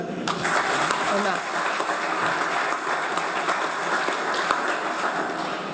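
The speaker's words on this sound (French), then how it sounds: "On applaudit." An audience applauds at an evening science lecture event, a sustained wash of clapping lasting several seconds at a fairly loud, steady level.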